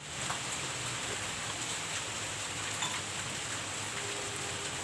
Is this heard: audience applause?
no